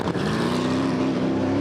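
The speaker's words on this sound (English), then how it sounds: "just waited to hear the engine go up" Race car engine in the pit lane during an endurance race, a steady loud droning whine that holds and slowly climbs in pitch, heard close and alone with no talking.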